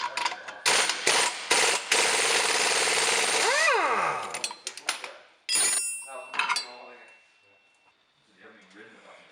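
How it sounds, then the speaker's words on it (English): An 18mm socket and wrench work a lower shock bolt loose during a Teraflex 1.5-inch spacer leveling kit install: bursts of metallic ratcheting clicks and clanks, loud at first then fading to scattered taps, while a person talks. "get your 18mm socket and wrench. We're gonna remove this lower shock bolt"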